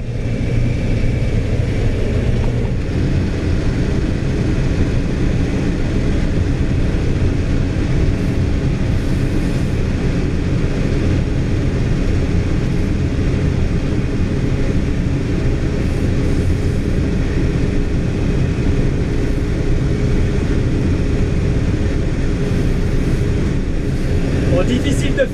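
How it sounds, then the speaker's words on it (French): Steady, loud drone of a combine harvester engine held at 2700 rpm during a barley harvest, a constant low rumble heard from inside the cab, with someone speaking intermittently over it. "2700 tours minute pour le moteur."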